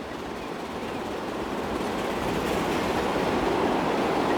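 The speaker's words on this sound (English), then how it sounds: "Here comes a Pullman train, express service from Berwick-upon-Tweed" A Pullman express train on a Transport Fever 2 line rolls past in a steady broadband rumble that swells slightly as it nears, with no clear wheel clicks, alone without talk.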